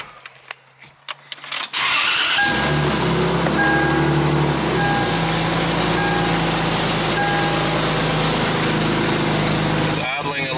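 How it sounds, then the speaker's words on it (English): A high-mileage BMW 335xi with check-engine faults starts up and settles into a steady, slightly fast idle. The engine runs loud and close for most of the stretch, and a short hum of speech can be heard beneath it. "It's idling a little high"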